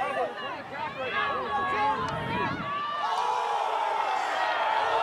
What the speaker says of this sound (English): Crowd reacting.